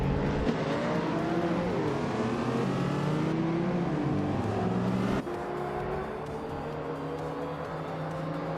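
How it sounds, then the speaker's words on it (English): Racing cars in a video game launch off the line at Paul Ricard, with a 2005 Alfa Romeo Brera on pole. Several engines drone and rev together in a loud, continuous, rising roar. "the race just kicked off at Paul Ricard and Exos 21 is on pole, driving a classic 2005 Alfa Romeo Brera"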